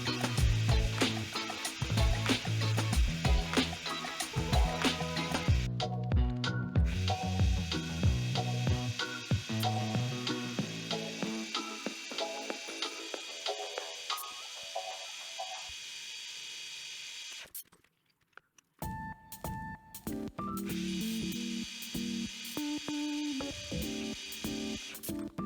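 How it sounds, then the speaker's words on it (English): A milling machine cuts slots for brass pins in metal as part of a puzzle's locking mechanism, giving a chattering, rhythmic whir that fades to near quiet, stops briefly, then resumes. "I'm now going to mill the slots for the brass pins"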